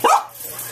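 A single sharp dog bark, close and loud, trailing off quickly into room noise.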